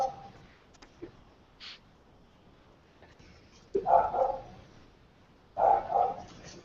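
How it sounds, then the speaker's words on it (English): A neighbor's dog barks from across the street, a couple of short bark bursts at a distance after some faint yips, fairly quiet overall. "tell the dog no one's breaking in"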